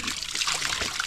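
Fresh spring water trickling and splashing steadily nearby at the hot and cold springs of St. Thomas Bath, Jamaica, a continuous bright liquid rush over about a second.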